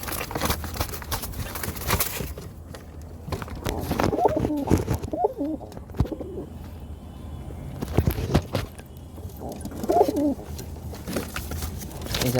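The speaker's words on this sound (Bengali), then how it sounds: "এই যে পায়রা দেখতে হচ্ছে আমার" Pigeons coo softly in low, rolling bursts at close range amid handling noises and scattered thumps, with a person talking intermittently nearby.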